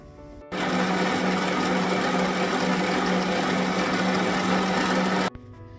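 An electric mixer beats eggless cake batter made with condensed milk and self-raising flour. The motor switches on with a steady, loud whirring buzz that holds constant for about five seconds, then cuts off abruptly.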